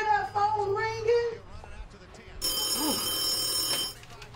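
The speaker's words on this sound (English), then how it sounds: "don't you hear that phone ringing?" An electronic telephone bell rings steadily and loudly for about a second and a half at a residence, following a spell of excited speech, with a voice briefly heard over the ringing.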